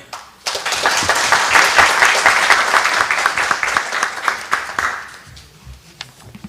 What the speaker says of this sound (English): And hopefully another round of applause to the speakers, please.